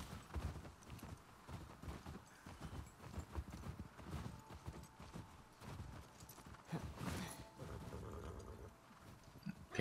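Horse hooves clip-clop steadily at close range, with an occasional snort or whinny against a busy, low rumbling game soundscape in The Last of Us Part II.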